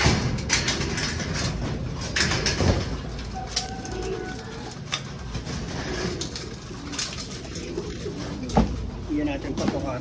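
Pigeons kept in a loft coo repeatedly in soft, low calls, with other birds and some rustling around them and a voice talking over parts of it.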